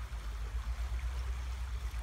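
A shallow stream at a nature site, flowing with a low, steady rushing murmur and soft gurgles, fairly faint and uninterrupted.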